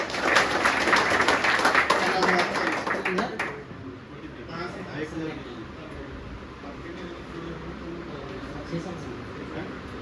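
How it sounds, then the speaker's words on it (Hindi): People at a Sunday business meeting give a burst of dense, loud applause for about three seconds; it then stops abruptly and leaves quieter room sound with people talking. "जोरदार तालियां हो जाए इनके लिए"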